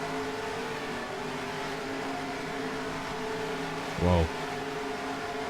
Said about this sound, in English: The sound of the engines just hit a weird frequency there. It kind of had a phasering effect for a second.